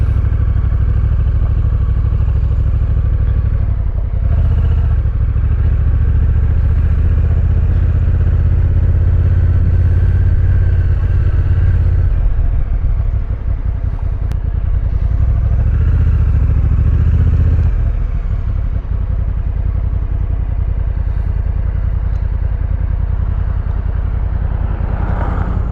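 A 2025 Honda NT1100 motorcycle underway, its steady engine drone and road rumble continuous and loud throughout, with wind noise rising and easing slightly along the ride and no talking.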